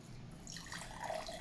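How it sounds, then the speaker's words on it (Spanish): Water is poured into a glass covered with a cloth mesh, a faint, close trickle and splash that builds slightly toward the end. "Depositamos el agua sobre el vaso."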